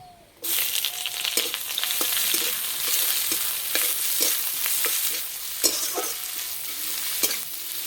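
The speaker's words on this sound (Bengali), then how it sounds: "এবার দেবো কুচানো পেঁয়াজ" Chopped onions hit hot mustard oil in a wok with dried red chillies, setting off a loud, steady sizzle broken by repeated clinks and scrapes of stirring.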